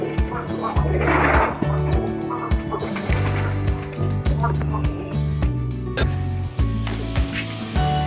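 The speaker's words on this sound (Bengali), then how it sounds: "কবুতর তোলা হয়েছে এখানে বিভিন্ন জাতের কবুতর আছে" Pigeons of various breeds, including Rajshahi Giribaz, in a rooftop loft, with low cooing and calls repeating steadily throughout over a busy, continuous background.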